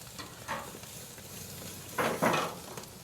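Marinated goat steak laid on a charcoal grill for Kenyan barbecue, giving a soft, steady sizzle with a few brief louder crackles and scrapes near the end.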